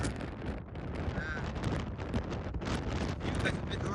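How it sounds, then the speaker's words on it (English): Strong wind on a mountaintop near the Sicilian coast buffets a handheld phone microphone, a constant loud rumbling roar with gusty swells throughout. "as you can see, it's very, very windy"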